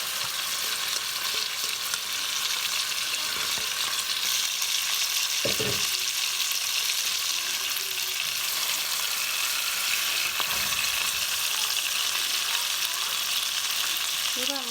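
A garlic and shallot mixture fries in a pot, giving a loud, steady, close sizzle with bright crackling spatter throughout and a couple of brief low knocks from stirring.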